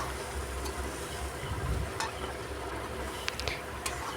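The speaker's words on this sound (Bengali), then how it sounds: "আলু দিয়ে ভালোভাবে কষিয়ে নেব" Potatoes stir-fry in hot oil and masala for an egg masala curry, a soft steady sizzle with occasional light clicks of a spatula against the pan, close and fairly quiet.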